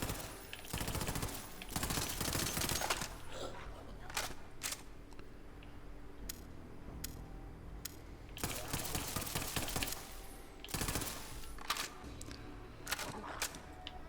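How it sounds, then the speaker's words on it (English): Night Hawkin shotgun from Borderlands 3 firing in bursts of loud, sharp blasts, with quieter clicks and reload mechanics between volleys. "just listen to the gun and look at the animations"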